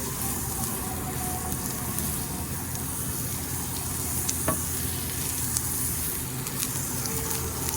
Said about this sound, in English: Butter goes in. She starts sliding around doing her dance.